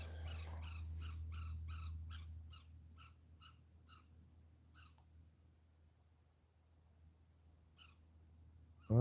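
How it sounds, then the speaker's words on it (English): A pair of woodpeckers gives a rapid series of harsh squawking calls, close and fairly loud at first, then a lone call or two later after a quiet stretch. "A couple of woodpeckers."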